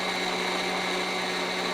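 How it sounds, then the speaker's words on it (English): A blender purees asparagus cream soup with a steady, loud, even whir and a constant motor drone, running alone without any talking. "For this blender, probably going to need to puree at least 3 to 4 minutes."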